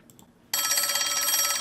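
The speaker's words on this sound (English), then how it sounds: "That phone even sound legit." An old-style telephone bell breaks out in a movie teaser trailer after a short quiet gap, ringing loud and steady in a bright, fast trill that carries on to the end.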